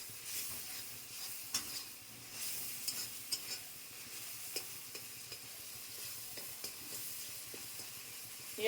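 A spice paste with a little sugar sizzles in oil while it is stir-fried for a cauliflower and paneer curry. The hiss is soft and continuous, broken by repeated light clicks and scrapes of a stirring spoon against the pan.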